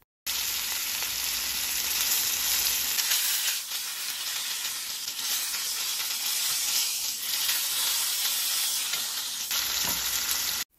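A steak searing in a cast iron pan gives off a loud, steady, close sizzle of fat and juices that runs unbroken and dense, with no voices over it.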